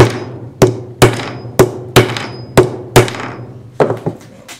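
Sharp metal hammer strikes on a punch fitting a press stud to a knife sheath ring out one after another, about nine blows at a steady pace, loud and close with short ringing decays.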